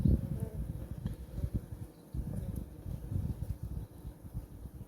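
Many calm honeybees buzz steadily at close range at an open hive, a dense low drone with no talking.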